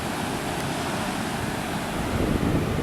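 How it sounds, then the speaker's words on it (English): Strong wind blows steadily along the Pacific Ocean shore at Brookings, Oregon, a loud continuous roar mixed with surf rumble and some microphone buffeting, gusting a little harder near the end. "Pretty strong wind."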